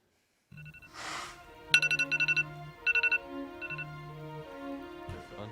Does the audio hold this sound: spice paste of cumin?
no